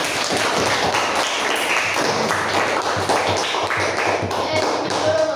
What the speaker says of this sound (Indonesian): Tepuk tangan kembali untuk Hilman.